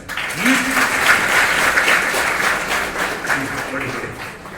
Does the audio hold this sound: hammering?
no